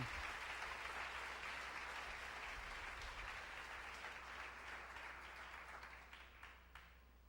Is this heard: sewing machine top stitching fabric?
no